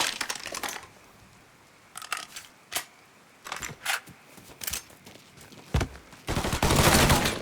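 Gunfire cracks in scattered bursts in the Mafia 3 Definitive Edition video game, with single shots and short volleys between quieter gaps, building to a dense sustained fusillade at the end.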